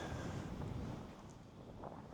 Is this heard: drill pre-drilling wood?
no